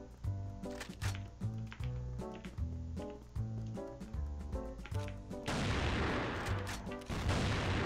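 Rapid gunfire in the online shooter game CrossFire, a string of sharp repeated shots over game background sound, followed by a louder noisy burst near the end.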